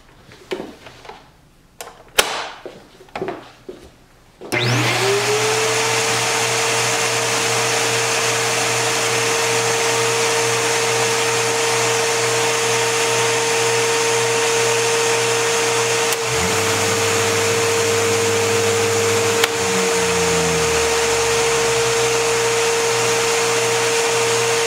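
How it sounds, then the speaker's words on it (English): An upright vacuum cleaner switches on after some handling clatter, then runs as a loud, steady whine with the brush roll spinning in floor mode, and its pitch shifts briefly near the end as the setting changes. "going to turn it on and show you guys that the brush roll is indeed spinning. Okay, so now I'm gonna switch it to the floor mode."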